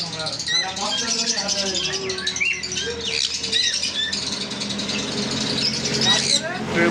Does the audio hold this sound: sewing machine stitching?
no